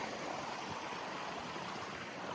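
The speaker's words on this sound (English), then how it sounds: "that's the first real creek crossing without a bridge" Creek water rushing steadily past logs and rocks at a hiking trail crossing in Yoho National Park, a broad continuous wash close by with no voices.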